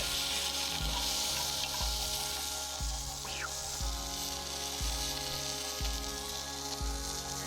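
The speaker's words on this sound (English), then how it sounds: "Brown the onions, are brown yet?" Onions browning in a pan over a campfire, a steady close sizzle alone with no talk, while a low engine-like hum beats in a slow regular pulse underneath.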